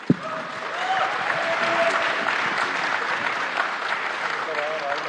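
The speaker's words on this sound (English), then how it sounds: "I think it deserves another round of applause," An audience at an event on Indian cinema and film studios applauds steadily for several seconds, the clapping dense and even with no one speaking over it.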